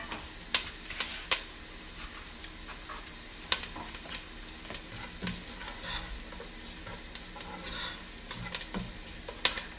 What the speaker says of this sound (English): now we are going to add in the chopped tomato